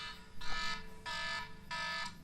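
Alarm in the LOTRO game after an item is sold by mistake: three evenly spaced, buzzing electronic blasts, each about half a second long, sounding alone.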